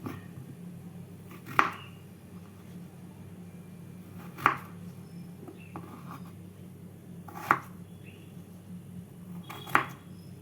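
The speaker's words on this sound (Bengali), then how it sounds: "মাঝখান দিয়ে টুকরো করে নিচ্ছি" A knife cuts through pointed gourd (potol), four crisp, separate chops spaced a few seconds apart, close up and clear over a quiet room.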